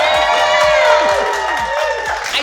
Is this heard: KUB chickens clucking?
no